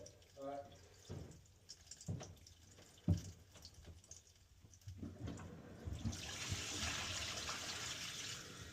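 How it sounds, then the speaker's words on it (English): A toilet flushes on a newly rebuilt drain line, where a lead bend was replaced with PVC, building into a steady rushing wash of water after a few clicks and knocks. "You want to flush it?"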